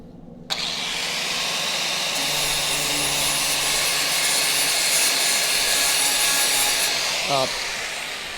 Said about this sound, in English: let me get the grinder out. We need the flap disc again.